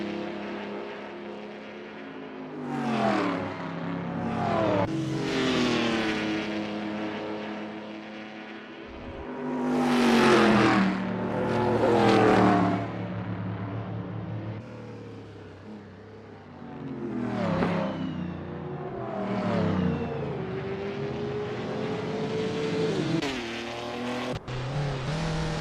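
Historic race cars in Assetto Corsa lapping Rouen Les Essarts 55-71 during qualifying: engines rise and fall through gear changes, several loud revving pass-bys sweeping close then fading, with no talk.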